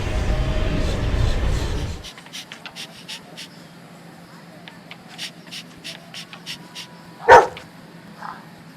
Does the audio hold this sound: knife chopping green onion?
no